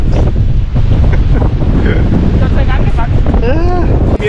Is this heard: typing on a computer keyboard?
no